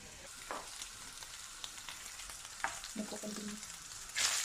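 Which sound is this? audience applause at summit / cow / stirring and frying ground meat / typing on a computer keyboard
stirring and frying ground meat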